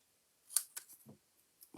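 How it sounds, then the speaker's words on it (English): Scissors make a few quick, close, quiet snips through paper while trimming a Christmas greetings card piece, followed by light rustling of the paper. "I'm just going to snip this off."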